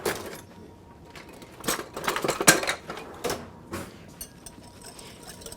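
A metal whisk clicking and rattling against a bowl while whisking tomato bread salad dressing, in quick irregular bursts of close, bright taps with brief pauses between.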